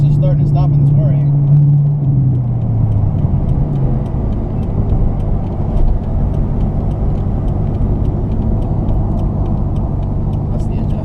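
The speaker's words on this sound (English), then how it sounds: "That's the engine, I think." Chevrolet C5 Corvette engine while driving, heard from inside the cabin as a loud, steady low rumble that holds throughout, with a faint voice briefly near the start.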